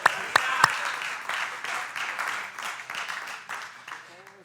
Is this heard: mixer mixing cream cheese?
no